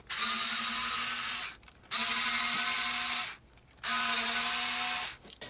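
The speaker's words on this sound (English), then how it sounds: "So we're gonna have to take out the remaining screws." A power drill removes screws from an electric guitar pickup with three sustained whirring bursts, each lasting over a second, separated by short pauses, close and fairly loud.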